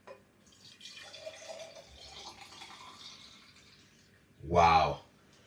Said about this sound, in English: I'm just gonna pour this into my cup.